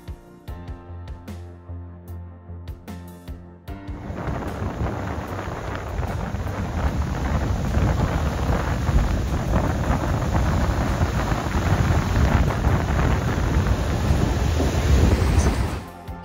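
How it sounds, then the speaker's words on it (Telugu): Strong wind buffeting the microphone at Wasaga Beach, a long freshwater beach in cold conditions: after a few seconds of quieter mixed sound, a loud, continuous roaring rumble sets in and holds steady to the end, with no talking. "అక్కడ ఫుల్ గాలి అండ్ చాలా చల్లగా కూడా ఉంది"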